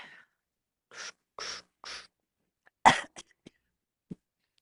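A few short harsh coughs, then a sputtering cough with trailing small throat sounds, close and fairly quiet with no talking.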